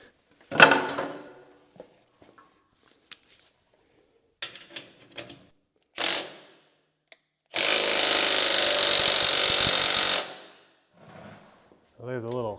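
A pry tool works on parts of a Case 1840 skid steer loader during restoration, giving scattered metallic knocks and scrapes. A steady loud mechanical whir runs for about three seconds before a short speaking voice.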